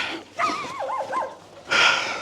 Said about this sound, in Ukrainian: Собачку сусідню треба підкормити буде м'язком, щоб не гавкала.